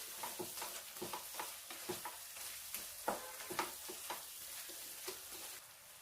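A spoon stirs chicken pickle with vinegar and asafoetida in a pan, giving a steady rhythm of light scraping strokes over a soft background sizzle, close and fairly quiet.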